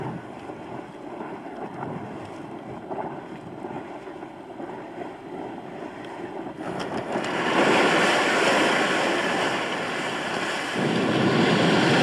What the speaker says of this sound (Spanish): Strókur es el mayor de los geyser. Forma una burbuja que asciende por un conducto y es expulsada a más de 20 metros de altura.